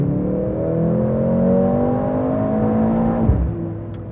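A 2023 Mercedes-AMG C63 engine revs hard and loud in race mode, the pitch holding high and steady, then drops sharply near the end as the throttle is released.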